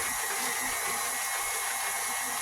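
Electric mixer whirring steadily at high speed as it beats coffee chocolate cake batter in a bowl, a continuous loud motorized drone with no voices.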